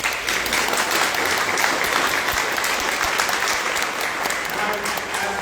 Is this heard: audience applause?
yes